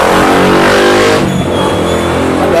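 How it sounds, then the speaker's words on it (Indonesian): Loud, close traffic noise from a busy road, with a car engine revving and roaring past, its pitch shifting partway through, with no voice on top. "Ada bising kendaraan karena ini jalur ramai, jadi ada bising kendaraan"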